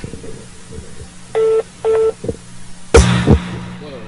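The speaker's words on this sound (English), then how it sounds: "Can you hear it beeping?" Phone-line tones sound over a call on hold: two sustained electronic beeps, then a brief chirp and a loud clatter of handling noise, with no voices.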